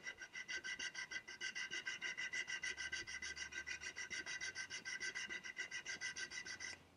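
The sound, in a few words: sanding oak slat with sandpaper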